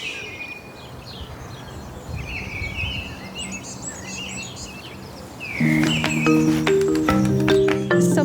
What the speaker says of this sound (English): They have lots of different types of birds here.